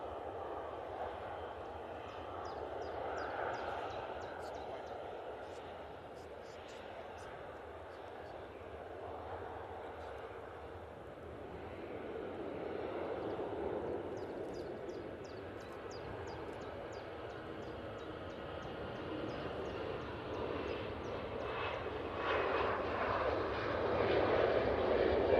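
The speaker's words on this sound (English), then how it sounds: "this Easyjet in the special livery is on the roll." An Easyjet airliner in special livery rolls for takeoff at Manchester Airport, its steady jet engine roar building gradually over the run, heard from a distance with a person talking over it throughout.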